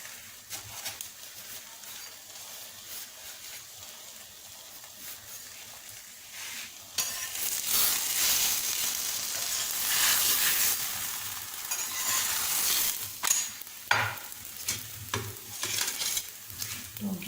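Frozen paratha frying on a pan, a soft hiss that swells into a loud, steady sizzle with crackling pops, close up and without talking.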